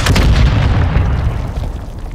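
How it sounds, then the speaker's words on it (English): Heavy explosions from a hostile mortar strike in the video game Call of Duty: Modern Warfare II, a dense, loud rumbling barrage of booms and bursts that rolls on continuously with no pauses. "Hostile mortar strike incoming."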